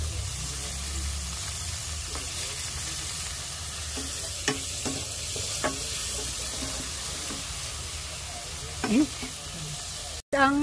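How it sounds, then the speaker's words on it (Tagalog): Squid adobo ingredients, onion, tomato, garlic and squid, sauté in a hot pan with a steady sizzle, punctuated by occasional scraping clinks of a utensil stirring, close and continuous. "At gisa-gisa muna natin."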